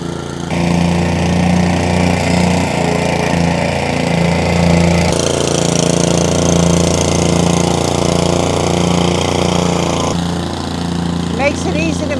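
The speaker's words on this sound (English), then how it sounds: "that Vevor Plate Compactor" A Vevor plate compactor runs continuously while compacting a sidewalk base, a loud, close engine drone with rapid vibrating thumps, steady for the whole stretch with a brief shift in pitch as it is maneuvered.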